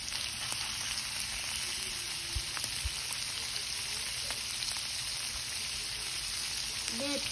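Liver and fat fry in a pan, giving a steady low sizzle under constant background noise with a few faint thumps and no clear talk.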